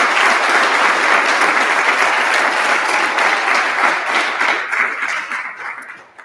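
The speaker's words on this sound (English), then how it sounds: "So I think this kid deserves a round of applause." A crowd at a school winter sports awards ceremony applauds an athlete with loud, dense, sustained clapping that tapers off toward the end.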